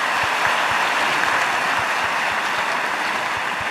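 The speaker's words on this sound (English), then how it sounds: "A big round of applause." A quiz audience at a Sathya Sai centenary celebration applauding after teams answer a world-culture round, a steady dense wash of clapping with low thumps underneath, sustained at an even level throughout.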